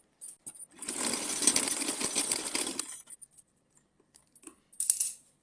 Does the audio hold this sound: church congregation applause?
no